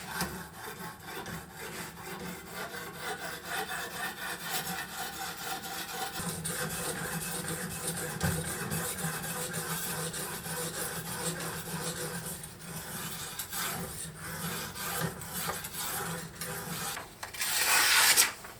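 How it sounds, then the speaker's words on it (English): A survival knife's very edge, its secondary bevel, is sharpened on a hand sharpener in a steady, continuous abrasive rasping and rubbing that runs close and fairly loud, with no talking. "So I'm just going to sharpen the very edge, which is the secondary bevel."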